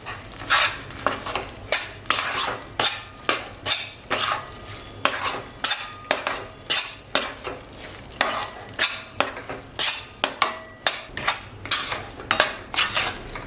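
A utensil stirs besan with cashews and almonds as they roast in a pan, making brisk, repeated metallic scrapes against the pan over a faint sizzle. The strokes run steadily and close throughout.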